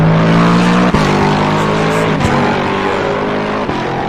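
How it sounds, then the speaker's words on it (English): Race cars lapping the Nurburgring in a racing video game, a loud, steady engine howl with sharp gear-shift dips about every second or so and no talk. "The sound of the cars a little bit."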